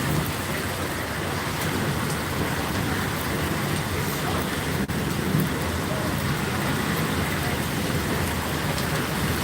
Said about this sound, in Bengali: আর এরকম জোরে বৃষ্টি হচ্ছে